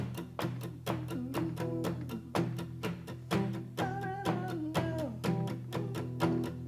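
An acoustic guitar strums the verse of a song steadily in a regular rhythm, chords changing partway through, played close and clear with no voices.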